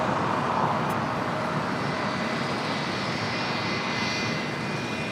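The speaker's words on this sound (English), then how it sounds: "It's a United 757-300, flight 2361. It's a 20-year-old at 757." A United Boeing 757-300, twenty years old, arriving at LAX from Houston, gives a steady loud jet roar with broad rushing noise and a faint high whine that holds level throughout.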